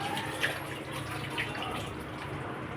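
A kitchen tap runs steadily while a pile of dishes is washed, giving a continuous close rushing stream with a few faint clinks.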